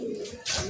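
Racing pigeons cooing nearby, a short soft coo followed by a brief rustle, with no talk.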